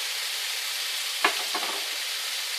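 Onions frying in a pan as tomatoes go in, a steady broadband sizzle with one brief louder splash and clatter partway through, then the sizzle settling back to an even hiss.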